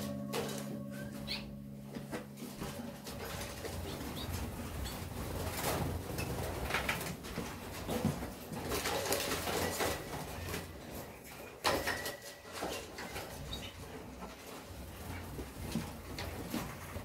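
Harzer Roller canaries in a flight box, a steady mix of soft chirps and rolling song, fairly close and continuous, with some rustling and knocking in the background.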